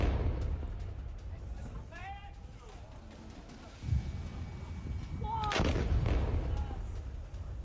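Bombardment at Nasser Hospital in Khan Younis brings heavy booming blasts, one around the middle and a stronger one later, under a loud rumbling background, with excited shouting voices heard throughout.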